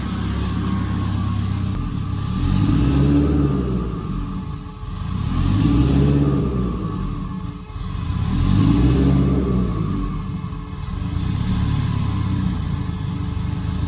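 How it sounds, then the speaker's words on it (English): A Subaru drag car engine is revved three times in rising and falling swells, each rev building loudly then dropping back to a rough idle between pulls, close up with no speech. "Now we can go ahead and rev it."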